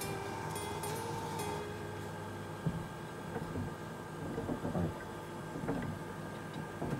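A home washing machine holding a down jacket starts its wash cycle, a steady mechanical hum with faint ticks, clicks and light knocks scattered through it, close and fairly quiet.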